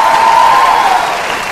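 Loud burst of audience applause at a Vietnamese comedy show, dense clapping that holds steady and then eases off slightly toward the end.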